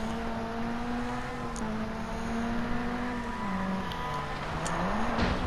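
A rally car engine drones close behind in Sébastien Loeb Rally EVO, a steady buzzing whine that rises and dips with the revs, alongside the continuous rumble of driving on a snow stage.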